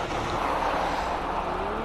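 Supra race car at a hillclimb, its engine a steady continuous roar held at a moderate distance throughout, with a faint rising whine running beneath.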